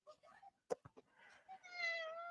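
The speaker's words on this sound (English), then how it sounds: "That was my cat" A pet cat meows several times close by, with short chirpy calls followed by a longer drawn-out meow, amid quiet surroundings.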